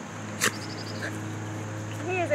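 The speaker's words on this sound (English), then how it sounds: "He is a cute puppy dog and he just wants to play." A puppy whimpers and yips in a few brief high cries over a steady low hum, with a sharper bark-like burst near the start and a rising whine at the end.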